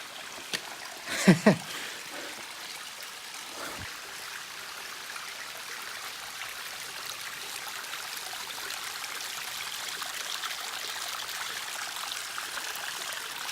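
A small river in Red River Gorge trickles and flows steadily at low level, with a couple of brief louder splashes or footfalls near the start before the soft water hiss continues alone.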